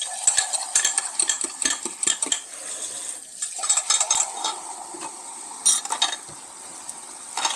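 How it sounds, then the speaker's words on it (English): Eggs cook in butter in a pan while dishes, pots and cutlery clatter and scrape close by, with a soft sizzle under the clinks of stirring. "let's put the eggs in there and let them start cooking"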